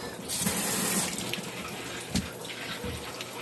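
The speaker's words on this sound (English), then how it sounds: "I got some black stuff on my hands from the liner. Let me rinse that off." Tap water runs from a faucet over hands to rinse off black residue from a tumbler liner, a steady splashing stream that is loudest early on and then softens, with no talking.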